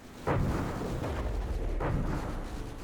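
Sandblaster weapons firing on an airship in From the Depths, deep booming blasts, two or three heavy bursts over a continuous low roaring rumble.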